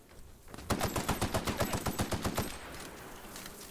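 Rapid automatic gunfire in The Outer Worlds video game, a loud sustained burst of evenly spaced shots lasting under two seconds, then tapering into a fading tail.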